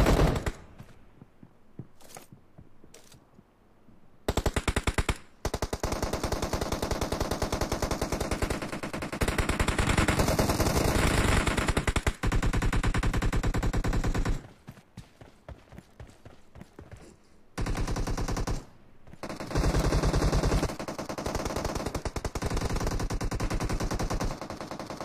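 Sustained automatic gunfire in PUBG Mobile team deathmatch, long loud bursts of rapid shots close up, broken by brief pauses with scattered single shots and footsteps.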